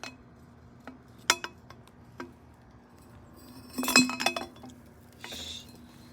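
A glass jar is opened and handled close up in a quiet space, giving a few sharp isolated clinks early on, then a busier cluster of bright glassy taps and rattles before a soft scrape.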